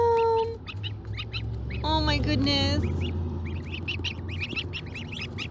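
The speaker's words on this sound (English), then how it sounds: "Do you hear that sound? That's the sound. Little tiny adorable goslings." Tiny baby goslings peeping in a high, thin, repeated chorus of chirps, close and steady throughout, with a brief louder wavering call in the middle and a person speaking softly over them.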